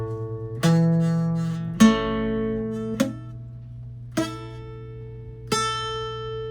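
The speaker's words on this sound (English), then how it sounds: "figure out which string is buzzy." Five strummed barre chords on a guitar with some buzzing strings, each strum ringing out sharply and decaying, spaced about a second apart with no talking.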